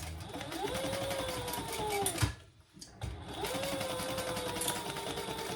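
A sewing machine stitches a small wristlet bag over a D-ring at a short stitch length, a fast steady whirring hum that pauses briefly midway and then resumes, close and clear, with no talking.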